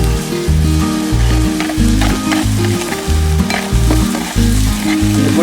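Sardine curry masala frying in a pan while being stirred, a loud, close, continuous sizzle and crackle with the rhythmic scrape of a spoon pushing the paste around.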